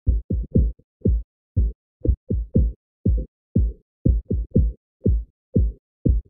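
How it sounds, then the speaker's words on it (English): Isolated bass drum hits, separated from a mix by remixing software, thumping in an uneven, syncopated pattern, deep and punchy with short decays, about two dozen strikes with no other instruments. "Let's listen to the bass drum."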